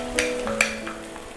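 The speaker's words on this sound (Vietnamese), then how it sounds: "chúng ta sẽ cho gạch cua vào để phi thơm, trưng cái gạch này lên cùng với cả hành" Crab roe and onions frying in a hot pot for crab noodle soup, heard as a steady close sizzle with a few sharp scraping clicks of stirring, no voices.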